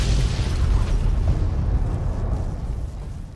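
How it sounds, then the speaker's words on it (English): A Tesla Beaton prototype energy cannon fires in Fallout: New Vegas, one heavy booming blast that rolls off into a fading rumble over about three seconds. "let us take out the Tesla beaten cannon once more"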